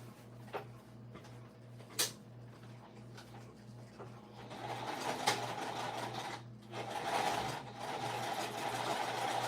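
A sewing machine runs in bursts as it stitches a second line on a crossbody bag, a steady whirring hum broken by a few sharp clicks and handling knocks, fairly quiet and close.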